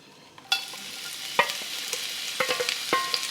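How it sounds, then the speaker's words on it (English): Onions hitting hot olive oil in a pot for a German paprika goulash: after a brief quiet moment the sizzle bursts in and carries on, dotted with scraping stir clicks, close and fairly soft. "once it's hot, we're going to add the onions"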